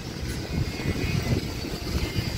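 A large winch motor runs with a steady, loud mechanical drone and a rough, pulsing low rumble that continues throughout with no pauses.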